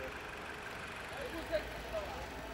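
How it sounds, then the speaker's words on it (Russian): A 2016 Jeep Compass Limited engine idles with a steady, even hum, with a faint voice in the background. "Двигатель работает ровно."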